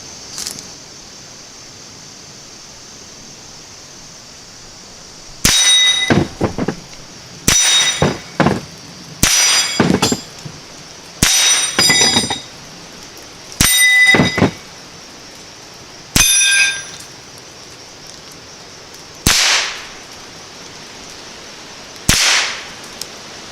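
An S&W MP15-22 rifle fires outdoors, about a dozen sharp, loud cracks in irregular spacing, some in quick pairs and others alone, each with a short ringing tail over a quiet background, with no talk.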